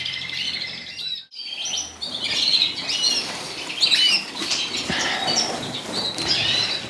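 Pet native birds in an indoor bird room chirp and tweet busily, many high calls overlapping near and far, with a burst of wing flapping early on and a brief squawk, no voices.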